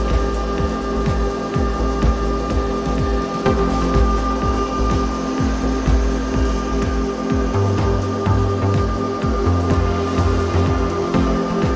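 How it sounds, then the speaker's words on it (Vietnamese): Loud, steady whirring of the cooling fan in a 2000W power amplifier under repair, a constant broadband roar with a faint hum and recurring clicks, no talking. "Quạt kêu mạnh nhỉ."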